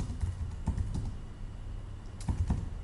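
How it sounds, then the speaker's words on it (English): Someone enters a street address into a mapping tool on a computer keyboard: soft, irregular keystrokes come in small bursts with short pauses, close and fairly quiet. "So I'm typing in my address,"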